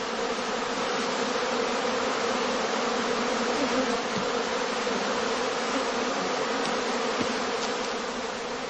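Dense, steady buzzing of many honeybees around a straw skep, a continuous drone that holds at an even level throughout with no voices.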